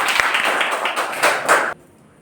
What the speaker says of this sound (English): First winner, clap your hands.